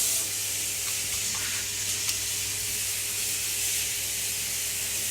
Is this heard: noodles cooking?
yes